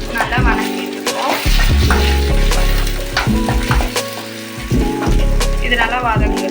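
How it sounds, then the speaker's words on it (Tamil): Ridge gourd sautéing in coconut oil in a pan, with a soft sizzle and occasional scraping stirs under steady tonal background music. "இப்போ வந்து கொஞ்சம் தேங்காய் எண்ணெய் ஊற்றிருக்காங்க. ஊற்றிட்டு நல்லா வணக்கிட்டுருக்கோம்."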